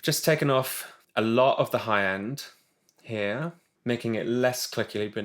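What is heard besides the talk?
No distinct noise like a dog, phone or traffic.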